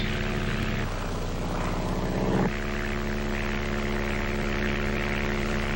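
A small propeller plane flies over rainforest with a steady, loud droning engine hum and buzzing propeller tone, heard continuously from inside or close by, with no talking.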